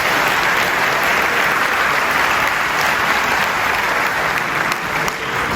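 A concert audience in Lille applauds, a dense, continuous wash of clapping from a large crowd, loud and even throughout with no speech over it.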